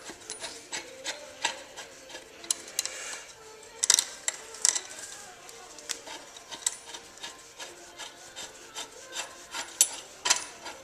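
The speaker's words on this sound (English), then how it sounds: "So I'm just going to the other side and pulling this bolt through." Metal bolt being pulled through the crash bar of a 2008 Kawasaki ZX6R, with close scraping and rasping friction in irregular short strokes and a few sharp metallic clicks, and no speech.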